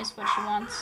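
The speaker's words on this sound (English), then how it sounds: "Sorry for my dog barking." A single short bark from a female pet dog indoors, overlapping a woman's speech.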